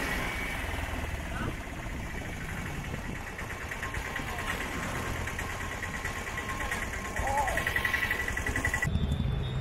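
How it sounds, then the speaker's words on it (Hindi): Auto rickshaw and chhakda engines chug and idle nearby in local traffic at the Gujarat–Diu border, a steady rough mechanical drone throughout with a louder pass near the end. "ऐसे ऑटो और एक छकड़ो है, छकड़ो दिखाते हैं, उसके अंदर बहुत लोग घूम रहे हैं"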